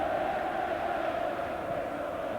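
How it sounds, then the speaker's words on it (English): Derby County fans in a stadium crowd during a cup match against Arsenal, a steady distant roar of massed voices with no distinct chants, continuous and moderately loud. "Crowd now really raising their voices, lifting the Derby team."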